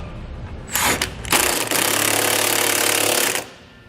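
Power tool with a 3/4-inch socket snugging half-inch trailer hitch bolts on a 2018 Subaru Impreza gives a few short bursts, then a loud sustained whirring run that cuts off, with no talk.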